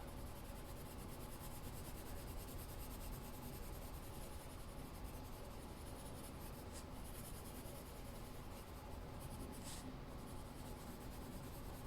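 Steady, continuous scratchy rubbing of a sky blue colored pencil shading lightly across paper, close and unbroken throughout with no voice.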